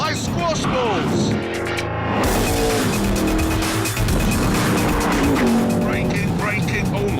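Noble M600 sports car driven hard on a test track, loud engine wail rising and falling through gear changes with tyre squeal, heard under someone talking.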